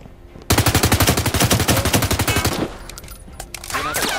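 A sustained automatic burst rattles out in Firewall Zero Hour, rapid evenly spaced shots for about two seconds, loud and close, followed by quieter scattered sounds and faint activity.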